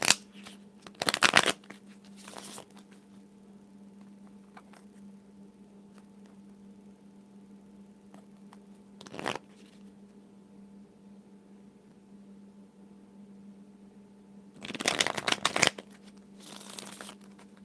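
Tarot cards are shuffled in a few short, crisp riffles separated by long quiet stretches, with a low hum underneath.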